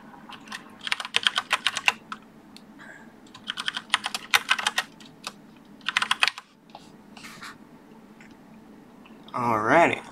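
Typing on a computer keyboard nearby, rapid clusters of clicky keystrokes in several bursts separated by pauses, closing with a brief louder rustle.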